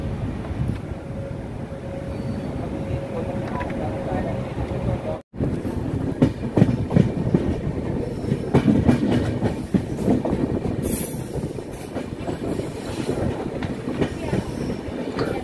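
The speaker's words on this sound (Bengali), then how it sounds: "এই যে ছেড়ে দিল ট্রেন, যে মাথাভাঙা ছেড়ে চলে যাচ্ছে এখন" The Padatik Express pulls away and rolls along the tracks, with steady rumbling and rhythmic clacking of wheels over rail joints, loud and close, plus a brief squeal and faint voices in the background.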